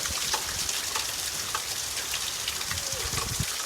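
Steady rain pours down during a thunderstorm in the woods, a dense, even hiss of drops that holds from start to finish with no voices.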